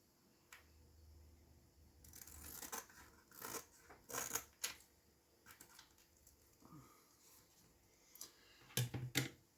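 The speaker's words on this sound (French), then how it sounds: "Alors, là, on va couper pour pas que ça colle sur mon plastique." Scissors snip through paper and plastic while a Father's Day card is made, giving several crisp, close cuts in small clusters, with light handling clicks between them in a quiet room.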